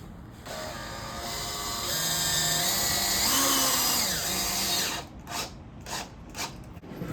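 A power drill pre-drills holes during a Quincy High School build, whining steadily for about five seconds with a rising and falling pitch before ending in a few short bursts.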